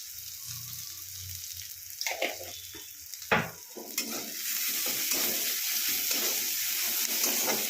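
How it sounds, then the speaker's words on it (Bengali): Sliced onions frying in a pan with a sprinkle of salt, a hissing sizzle with a few sharp stirring knocks early on, then a steady, stronger fry sound that continues to the end. "এর মধ্যেই একটু নুন ছিটিয়ে দিই। তাহলে পেঁয়াজটা তাড়াতাড়ি ভাজা হয়ে যাবে, গলে যাবে।"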